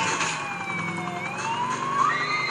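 A police car siren wails continuously in GTA 4, its rising and falling tones sweeping over engine and traffic noise at close range.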